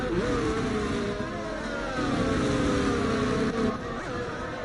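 Race car engines in a sim racing game drone steadily with shifting revs, loud and continuous, and a commentator talks over them.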